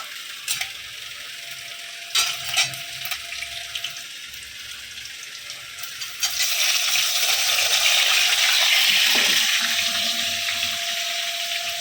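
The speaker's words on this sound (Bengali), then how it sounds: "এই যে লাল লাল করে এখন আলুটা ভেজে নিয়েছি এর মধ্যে দিয়ে দেবো হচ্ছে পেঁয়াজ" Potatoes fried until reddish in a pan, with onion then added; a steady hiss rises and thickens partway through, broken by scattered clicks and clatter of stirring, no voices.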